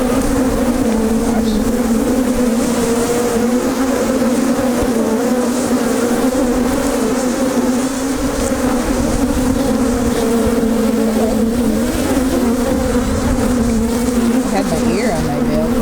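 Honey bees swarm around an open hive in a strong colony, a loud, continuous close-up buzz with a steady pitched drone and a few louder passes near the ear.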